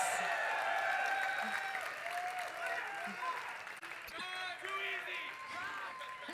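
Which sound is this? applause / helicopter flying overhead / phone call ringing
applause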